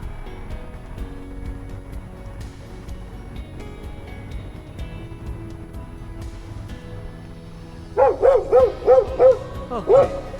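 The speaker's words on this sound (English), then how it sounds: "the dog just scared the crap out of me" On a quiet small-town Michigan street, a dog suddenly lets out a burst of about five or six sharp, loud barks close by after a long stretch of faint background ambience.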